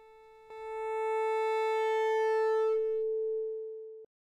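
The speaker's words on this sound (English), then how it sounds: "Now, as I boost the volume, the signal changes. We get this funny squared off waveform." A steady sine tone overdriven into a squared-off, buzzy distortion rich in overtones, held loud and constant for several seconds before stopping abruptly, alone with nothing else heard.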